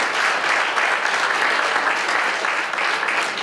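School celebration audience gives sustained applause, a loud, dense, even roar of many hands clapping close by for the whole stretch.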